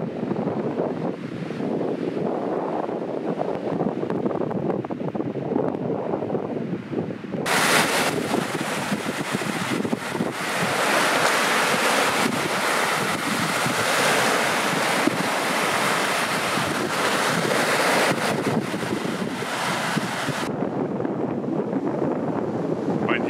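Sea waves breaking on the shore at Lignano beach in Italy, with steady wind buffeting the microphone, a continuous loud roar of surf that swells into a brighter, fuller wash through the middle of the stretch.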